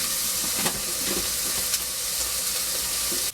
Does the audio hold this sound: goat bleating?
no